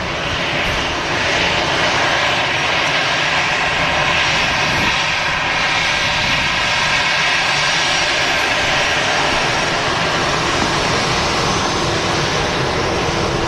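A jet airliner at Manchester Airport roars loudly and steadily, a broad, dense engine rush that swells slightly and holds throughout.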